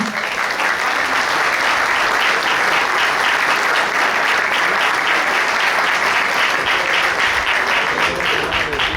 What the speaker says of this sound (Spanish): Xavi, por favor, Xavi Aguado, un fuerte aplauso para el gran capitán.